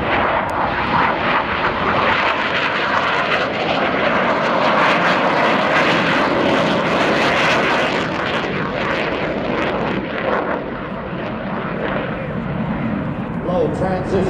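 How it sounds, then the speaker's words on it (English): A US Navy F-18 Hornet jet flies past low after takeoff at an air show, its loud roaring engine thrust filling the scene throughout, with a broad rumble that swells and stays steady. "here is the F-18 Hornet."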